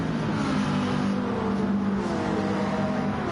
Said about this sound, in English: We'll see if the Lamborghini can catch on to the back of that Mercedes